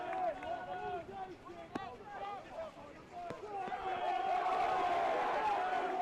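Crowd noise from spectators at a school rugby match between Durham School and Adams' Grammar School, with a murmur of voices and scattered shouts that swell near the end, under an announcer's speech.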